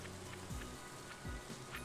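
Steady rain falling in the Stardew Valley video game, a constant wash of soft patter with a few low whooshing sweeps, continuous and even throughout.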